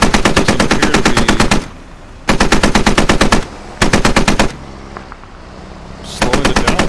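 Bursts of rapid machine gun fire rake an MRAP in the military shooter Squad, loud and close, coming in three long strings separated by short lulls, with a fourth burst starting at the end.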